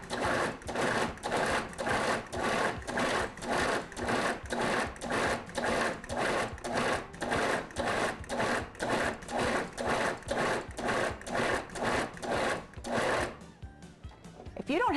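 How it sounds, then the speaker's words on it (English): A food processor pulses rhythmically through cubed London broil beef, about twenty evenly spaced loud chopping bursts in a steady beat, ending with a short quieter stretch. "I've cubed 3 pounds of London broil and put it in my food processor. And I'm going to use about 30 pulses to grind this to a nice,"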